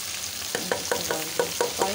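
Tomatoes tossed into a pan of frying okra with spices, a steady sizzle broken by regular spoon-stirring scrapes and clacks about every fifth of a second, close and moderately loud with no talking.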